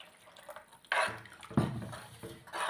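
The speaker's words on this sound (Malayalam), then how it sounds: "കുറച്ച് ചൂടുവെള്ളം കൂടെ ഒഴിക്കുവാണേ തിളപ്പിച്ച് വെച്ചിരുന്ന വെള്ളമാണ്" Boiled hot water being poured into a simmering homemade fish curry, with a few soft splashing, bubbling pours and clinks of a pot in between, fairly quiet and close.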